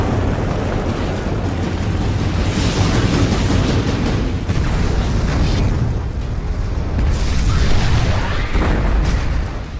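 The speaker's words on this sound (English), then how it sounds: "the massive Persian ships were also set ablaze, causing violent explosions in the Greek fleet." Persian warships set ablaze on a burning sea in a movie battle explode violently; a continuous dense roar of blasts and fire rumbles loudly throughout with no speech.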